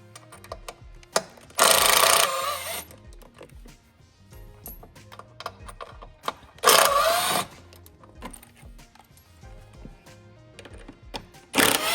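On a Canyon body panel, a power driver removes Torx 30 screws in two loud whirring bursts, with clicks and small handling noises between them.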